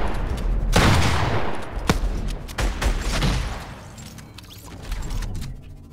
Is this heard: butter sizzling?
no